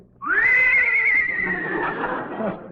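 A single loud horse whinny rings out close up in a 1948 radio comedy broadcast, a high shrill call that holds and then trails off into a rougher, lower tail.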